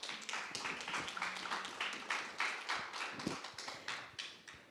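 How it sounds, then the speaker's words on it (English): Round of applause for the two hosts at the closing ceremony of the 12th Jeju International Youth Forum, a dense, steady patter of many hands clapping that runs the whole stretch, moderately distant with no voices over it. "Please Minji Go and Hyungjin Yoo a big round of applause."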